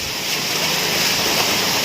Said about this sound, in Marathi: पावसाचा वेग कमी होत आहे खूप मोठ्या प्रमाणावरती पाऊस पडतो आहे